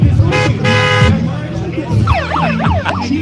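Car horns honk at a Toronto protest march, with long loud blasts near the start and later siren-like warbling tones, while people talk nearby.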